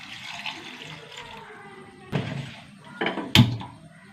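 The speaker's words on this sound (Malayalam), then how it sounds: "വെള്ളം ഒഴിച്ച് കൊടുക്കാം." Water is poured into a pot of ripe pumpkin curry seasoned with salt, turmeric and chili powder for an Onam sadhya dish, giving a few short splashing bursts close by against a quiet kitchen background.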